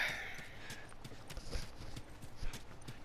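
Horse hooves clip-clopping in The Last of Us Remastered, a steady run of soft repeated hoof strikes at moderate distance over a grainy ambient background, with no talk.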